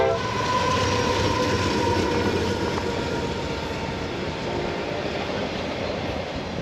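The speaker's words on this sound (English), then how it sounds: "There's a big train." A big freight train rolls past near Rouleau, Saskatchewan, its steady rumble and clatter filling the scene while a sustained horn blast sounds early on.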